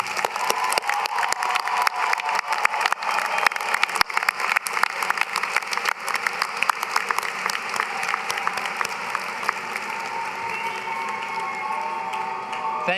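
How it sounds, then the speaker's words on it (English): A large graduation ceremony audience at a university commencement gives sustained, steady applause, a dense wash of clapping lasting many seconds. "please join me in showing our appreciation to them with resounding applause"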